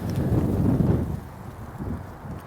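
Low, blustery rumble of wind buffeting a microphone, steady and fairly loud throughout with no voices.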